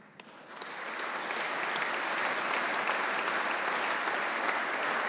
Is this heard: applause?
yes